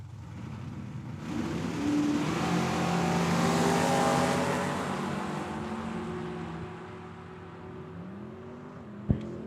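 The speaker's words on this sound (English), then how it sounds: "Mr. Chris Citro, left-hand side. In his Mustang. Early 70s style Camaro on the right-hand side," Drag racing cars, a Mustang and an early-1970s-style Camaro, roar loudly at a dragway, their engines revving and rising in pitch together before fading, with a sharp bang near the end.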